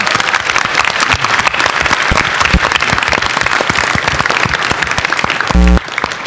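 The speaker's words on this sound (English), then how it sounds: "So let's give her a round of applause." An audience at a Bitcoin 2013 conference entrepreneurs panel gives a loud, steady round of applause. Dense, sustained clapping fills the room and breaks off abruptly near the end.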